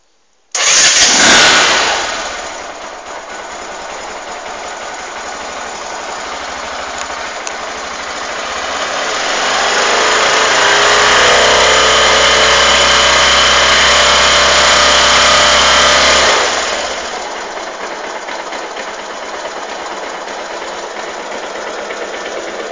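A cold Bajaj Rouser 135 motorcycle fires up with the choke on, then settles into a steady, fairly loud idle with a slow rise around halfway before it drops back to a smoother run.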